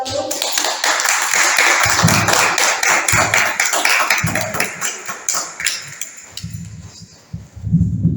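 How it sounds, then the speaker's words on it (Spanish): Dense, steady applause from a seminar audience fills the clip, thinning a little toward the end as the clapping starts to break up. "Lo recibimos con un aplauso."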